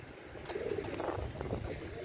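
Pakistani Teddy pigeons from an imported bloodline, an Oman Teddy, Royal Teddy, Saki Teddy and Salara Teddy among them, coo softly in a repeating rhythm, near but low in level amid faint background noise.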